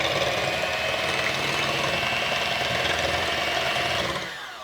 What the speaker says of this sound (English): I'm going to come in here with my hand mixer, or if you have a stand mixer, then you'll use that. And let's just beat this until it gets frothy